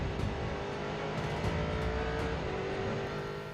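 A Nielsen LMP3 race car lapping the Silverstone GP circuit, its engine droning loud and continuous with shifting pitch as it holds speed and brief higher bursts mark gear changes.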